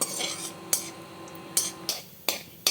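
A spoon strikes and scrapes a pan as cut cashews and almonds roast in ghee, giving six crisp metallic clinks at irregular intervals over a quiet, faintly hissing background.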